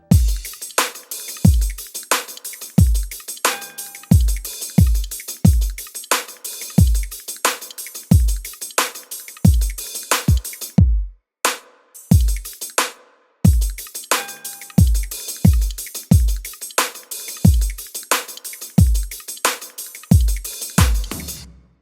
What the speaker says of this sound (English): This is how the drums in this composition sound soloed.